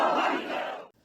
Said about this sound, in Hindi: बेकाबू भीड़, हर तरफ गहमा गहमी